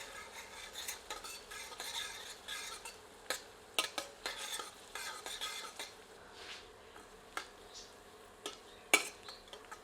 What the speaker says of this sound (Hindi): इसे मध्यम आंच पर तब तक भूनते हैं जब तक कि प्याज सुनहरी नहीं हो जाती।